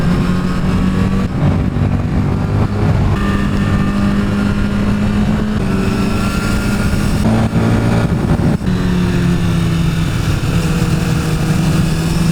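A motorcycle with a quick shifter accelerates hard on a road near Stolberg in the Harz, its loud engine note climbing and then dropping abruptly at each rapid upshift, heard close from the rider's position with no talk.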